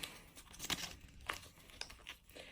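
New makeup brushes being unwrapped, with soft, close plastic crinkling and a few sharper rustles and tearing scrapes in quick succession.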